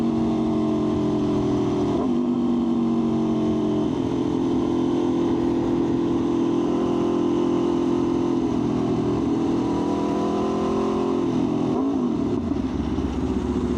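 Steady engine drone from an Aprilia RSV4 1100 Factory motorcycle riding through road traffic, a continuous loud hum with shifting pitch throughout, easing near the end.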